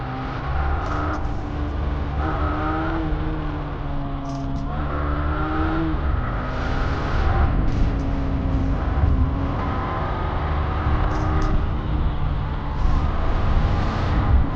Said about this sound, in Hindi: दोनों भाई साथ साथ में भागा रहे हैं बाइक को